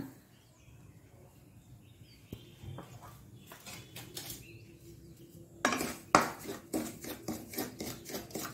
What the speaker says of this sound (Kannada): ಈ ಒಂದು ರವವನ್ನು ಸ್ವಲ್ಪ ಹೊತ್ತು ಫ್ರೈ ಮಾಡ್ಕೊಳ್ಳೋಣ